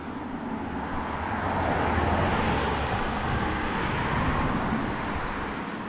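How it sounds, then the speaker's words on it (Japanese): Steady broadband road traffic from cars passing on a nearby road near the Chojabaru trailhead in the Kuju mountains, a continuous mid-level wash with no distinct individual passes and no talk. "もうずっと車の音は聞こえるんで"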